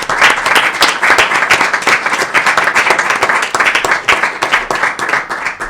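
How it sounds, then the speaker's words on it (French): Sustained, loud applause from an audience at a city council meeting, dense steady clapping throughout with no speech over it. "je vais vous demander de les applaudir, ces deux dames-là, soit Ève Bélanger et Joanne Fortin"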